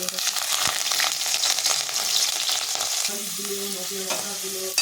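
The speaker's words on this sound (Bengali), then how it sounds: "তেলটা গরম হয়ে গেছে চিংড়ি মাছগুলো ভেজে" Prawns sizzle steadily in hot oil, a loud, continuous crackling hiss with stirring scrapes, and a low tonal hum joins partway through.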